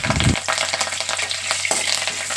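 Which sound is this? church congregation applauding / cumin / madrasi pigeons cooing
cumin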